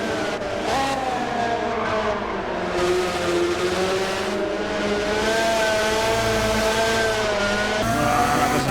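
Race car engine in Gran Turismo 7 holds a loud, steady roar throughout, its pitch climbing and dropping as gears shift up and down repeatedly, with brief tire squeal mixed in.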